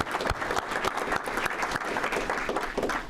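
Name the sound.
audience applause for graduating students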